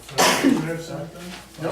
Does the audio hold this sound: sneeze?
yes